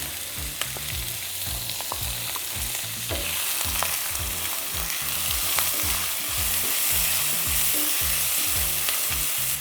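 Diced brown onion sizzles steadily in hot olive oil in a pan, a close, continuous frying hiss with occasional crackles and stirring scrapes, no talking.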